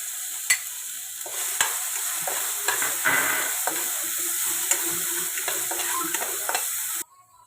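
Ground green chili frying in a pan with urad dal, a continuous moderate sizzle broken by sharp clicks of a spoon stirring, ending abruptly after about seven seconds.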